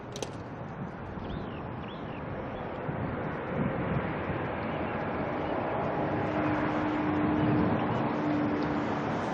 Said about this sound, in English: NZ998 here, heading out to Apia, the A320 Neo